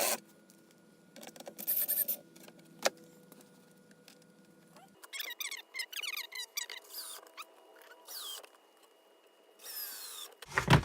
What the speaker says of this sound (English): So I'm just gonna grab a screwdriver.